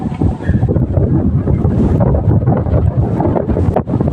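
Steady wind buffeting the microphone, a loud low rumble that continues without a break the whole time, with no voices.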